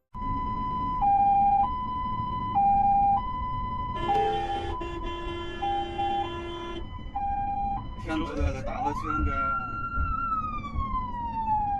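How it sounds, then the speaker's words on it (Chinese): An ambulance siren wails nearby, switching between two alternating tones, with bursts of traffic noise and a rising-falling sweep near the end. "救护车明明拉着警报，红灯闪烁"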